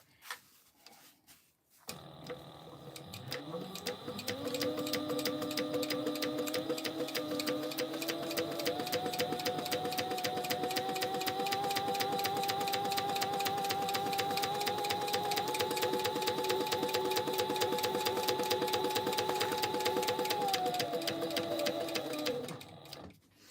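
A sewing machine runs continuously for about twenty seconds, stitching a seam on a clear TPU vinyl backpack: a close, rapid, even mechanical whir that starts and stops cleanly.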